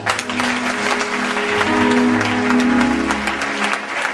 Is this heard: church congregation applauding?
yes